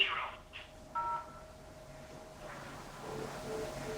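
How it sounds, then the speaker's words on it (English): Short electronic keypad tones from a phone system menu sound at the start and again near one second, thin and beeping over a steady hum and faint background noise. "If you would like to contact reception, please dial"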